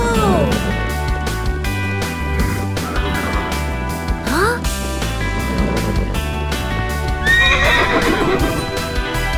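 A winged horse in a cartoon neighs and whinnies several times, with a rapid clip-clop of hooves and music playing underneath.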